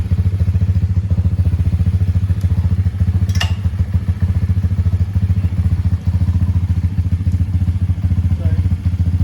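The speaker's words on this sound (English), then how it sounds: "Alright, so now let's let it warmed up a little bit." A small motorbike, fitted with new clutch and brake levers, idles steadily while warming up, with a loud, even engine chug close by throughout.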